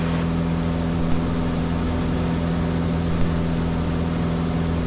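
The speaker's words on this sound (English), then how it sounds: "This particular engine is an IO360 Lycoming Thunderbolt." Vans RV-7A experimental aircraft with a brand-new Lycoming IO360 Thunderbolt engine in flight, a loud, steady propeller and engine drone heard from the cockpit with constant harmonic tones and no talk.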